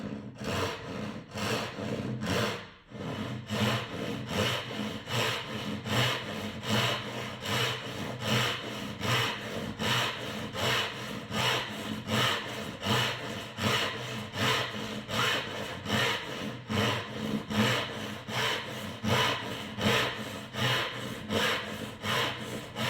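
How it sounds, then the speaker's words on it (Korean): A Japanese dozuki backsaw cuts through wood in a long run of quick, regular push-pull strokes, each a close, rasping scrape, with one brief pause near the start. "제 톱질 실력을 최대한 발휘해서 잘 잘라보도록 하겠습니다."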